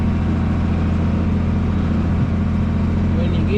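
A farm tractor engine runs steadily at low throttle while pulling a dirt pan, a constant deep droning hum with no revving.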